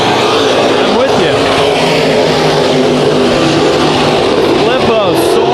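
Race cars roar around Bakersfield Speedway during a heat race, a dense, continuous wall of engine noise with passing revs, while a commentator talks over the top.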